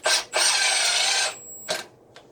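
Milwaukee impact driver running at variable speed, a loud high whine in short bursts: one quick blip, a longer sustained run, then two brief trailing pulses.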